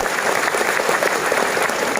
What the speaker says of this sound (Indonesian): Tepuk tangan buat Kabupaten Musirawas luar biasa.